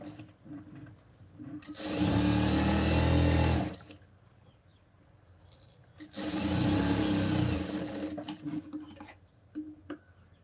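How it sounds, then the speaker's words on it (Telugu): A sewing machine stitches a lining blouse in two loud, close bursts of rapid whirring, separated by quiet pauses with faint ticking. "ఇంకొక కుట్టు వేసుకున్నానండి"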